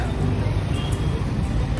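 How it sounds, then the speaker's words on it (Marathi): Road traffic in Pune, a steady wash of passing cars and engine rumble heard close by, with background voices and general street babble mixed in. "पुण्याची ट्रॅफिक"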